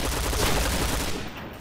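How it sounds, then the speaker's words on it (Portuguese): A P90 submachine gun fires in the Point Blank video game on the Desert Camp deathmatch map, a short, loud, continuous burst of rapid shots that fades at the end. "Tá atirando."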